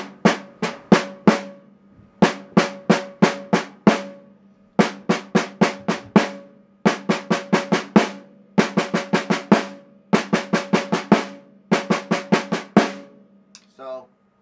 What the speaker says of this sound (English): right now we're at the six stroke roll